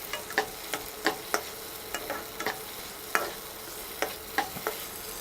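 Tomato and paneer fry in a pan for egg bhurji, a soft steady sizzle broken by a dozen sharp spatula scrapes and taps spread irregularly across the clip.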